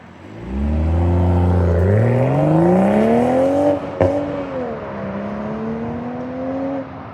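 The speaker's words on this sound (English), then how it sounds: "BMW has done a phenomenal job on that exhaust" A 2026 BMW Z4 M40i sports car with a manual transmission accelerates hard. Its exhaust note climbs loud and steady through the revs, drops briefly at a shift, then pulls again.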